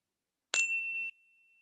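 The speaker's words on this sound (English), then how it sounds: "Till the bell signals our transition" A single meditation bell struck once, marking the end of a silent practice session in a stress reduction workshop; a clear bright strike followed by a long, steady ringing tone that sustains and slowly fades, heard alone in a quiet room.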